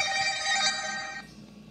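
Phone ringtone sounding for an incoming robocall, a bright electronic melodic ring playing alone at close range for about a second before cutting off.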